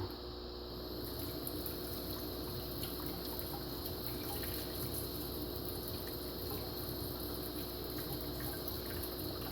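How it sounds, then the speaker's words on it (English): Faint, steady watery whoosh and trickle from a Marineland 250 hang-on-back canister aquarium filter being vacuumed and scrubbed, a continuous low wash with no talking. "let's go ahead and vac this, scrub it out"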